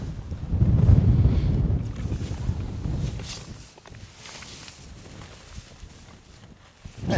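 Wind gusts at a lakeside camp on Virkejävri in the Paistunturi wilderness of Lapland, a strong buffeting roar at first that eases into a lighter, uneven rush.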